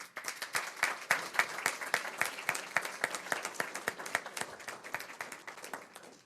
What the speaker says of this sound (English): Another round of applause for all of the recipients.